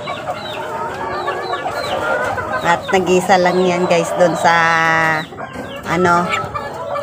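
A young chick set down outside in the sun clucks and peeps repeatedly at close range while someone talks over it.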